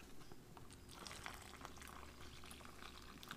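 Water poured into an MRE turkey tetrazzini pouch from a cold weather menu, a faint continuous trickling and bubbling that runs steadily throughout with no talk over it.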